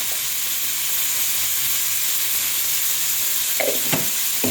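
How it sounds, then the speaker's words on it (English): Green grams fry in oil in a pan with tomatoes, salt and beef masala, giving a steady loud sizzle and hiss throughout, with a few spoon scrapes and clinks near the end. "We continue stirring until it is well cooked"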